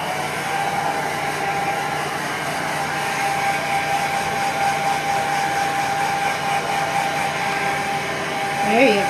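A blow dryer runs steadily at close range, a constant airy whir while a dog is dried with the heat turned down, with a short swell near the end.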